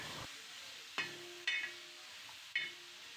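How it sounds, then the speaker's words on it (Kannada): Egg sambar masala is sautéed in a pan over medium heat. A steady, low sizzle runs throughout, broken by three or four sharp taps and scrapes of a utensil against the pan. "ಒಂದು ಮೀಡಿಯಮ್ಮಲ್ಲಿ ಬಾಡಿಸ್ಕೊಳ್ತಾ ಇದ್ದೀನಿ."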